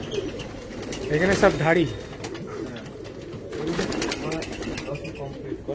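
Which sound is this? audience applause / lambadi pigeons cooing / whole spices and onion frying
lambadi pigeons cooing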